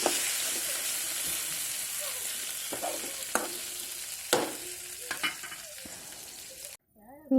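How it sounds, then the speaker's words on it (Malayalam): Okra (ladies' finger) fries in a pan with a dense, steady sizzle, broken by several sharp stirring clatters and scrapes, then cuts off abruptly near the end. "ഇതാ ഇവിടെ വെണ്ടയ്ക്ക ഫ്രൈ ആയിക്കൊണ്ടിരിക്കുന്നു."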